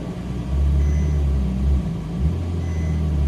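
A Ferrari 458 Italia idles in reverse under light throttle, a loud, steady low engine rumble with slight swells as gas is fed, close and continuous, with no talking.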